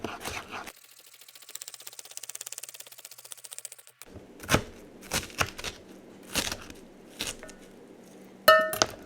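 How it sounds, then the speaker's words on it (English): Kitchen knife thinly slicing rolled cabbage leaves for sauerkraut on a cutting board, a quick run of close, even crisp cuts followed by a few sharper, separate chops and a louder final clack. "Roll it a little bit again, and then thinly slice"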